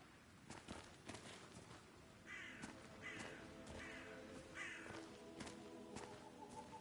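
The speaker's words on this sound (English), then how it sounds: "If I could just get clear hits on those nests." Crows cawing near their nests in Hitman 3, a short run of four evenly spaced caws at moderate distance over a quiet ambient game background with scattered faint thumps.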